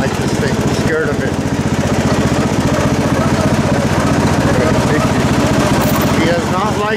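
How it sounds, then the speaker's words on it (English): A loud lawn tractor engine running steadily nearby, with a constant rumbling drone throughout. "He does not like the lawn tractor."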